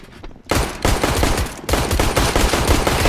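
Rapid gunfire in CS:GO rattles loud and close in sustained, overlapping bursts that fill nearly the whole moment after a brief quieter start.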